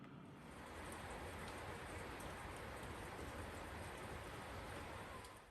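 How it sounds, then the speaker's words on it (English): Rain just starting to fall, a steady soft hiss of drops that is even and continuous. "It's actually just started raining"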